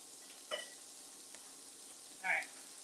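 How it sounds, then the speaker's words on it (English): Sliced mushrooms and almonds in butter are stirred in a pan, giving a quiet, low sizzling hiss with two brief scraping stirs. "All right, so let's go ahead and stir it up."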